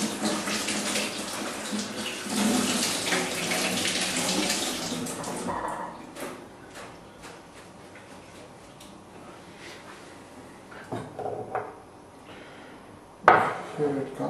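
Tap water runs loudly into a kitchen sink while small peeled onions are rinsed, the flow cutting off midway, then a few faint handling knocks and a sharp clack near the end.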